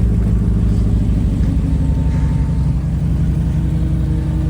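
The Coyote V8 of a 1976 Ford Bronco idles close by with a smooth, even, low rumble that holds constant throughout, no revving.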